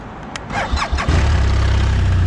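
A BMW R1200RT sport model motorcycle engine starts up after a brief crank, then settles into a steady, close, fairly loud idle with no talking.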